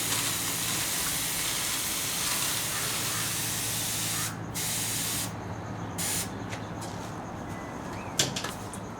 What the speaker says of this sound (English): So we'll just mist it and get the moss nice and established here.